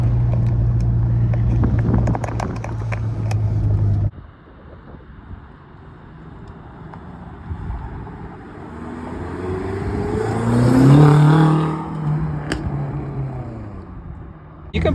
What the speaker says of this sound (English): You can probably hear, even with the windows open, the exhaust is not crazy.